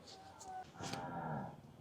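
Cattle moo at a livestock market in Wang Prachop, Tak, with one cow giving a drawn-out low moo at moderate distance over faint crowd noise.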